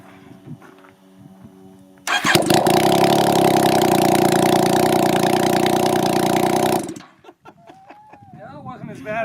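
A Yamaha FZ-09 motorcycle engine idles loud and close with its exhaust removed, a harsh steady burst of about five seconds that cuts off abruptly, with quieter sounds before and after.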